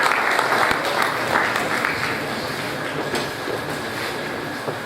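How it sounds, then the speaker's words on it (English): Steady, dense applause fills a hall at an annual scientific conference as a provost comes to the high table, the clapping continuing at an even level from start to finish with no gaps. "Please a round of applause for him as he comes to the high table."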